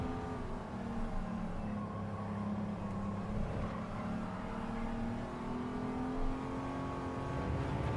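A car engine at full throttle in the racing game Gran Turismo 7, during a cornering licence test, holds a loud, steady high-revving drone that rises slightly in pitch and continues unbroken throughout.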